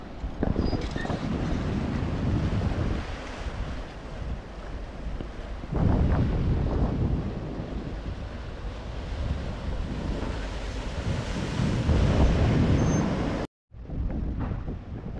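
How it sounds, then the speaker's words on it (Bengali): Sea waves and surf roll in at high tide on Tajpur beach, a continuous loud wash of breaking water with wind rumble, surging in waves and briefly cutting out near the end. "এখানে কিন্তু প্রচুর এখনও পর্যন্ত জলোচ্ছ্বাস দেখা যাচ্ছে।"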